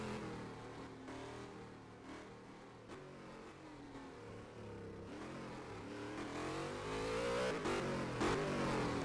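A Maserati race car engine revs in the rFactor 2 racing game, a sustained buzzing drone that rises and falls in pitch through gear changes and swells louder toward the end.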